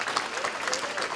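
A banquet crowd gives a round of applause, a brief steady wash of many hands clapping with a voice faintly audible through it.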